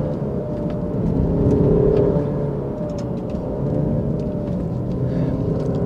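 Alfa Romeo Giulia Veloce Ti Q4 with a 280 hp engine and twin rear exhaust outlets, model year 2020, giving a steady low engine rumble and whir from inside the cabin, swelling slightly midway, with no talk over it.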